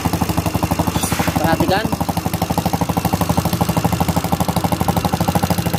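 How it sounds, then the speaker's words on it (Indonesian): Motorcycle engine idling after a kick start, with a fast, even chugging pulse that is loud and close and has its exhaust bolt removed. Someone speaks briefly over it. "bisa didengar suara mesinnya?"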